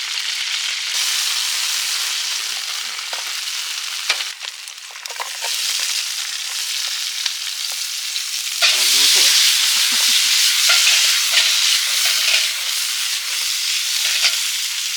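Garlic and onion fry in a pan, a loud steady sizzle that runs throughout with occasional stirring scrapes and a brief surge of crackling partway through, close and continuous with no talk.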